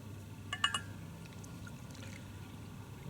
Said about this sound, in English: can you see me pouring me coffee?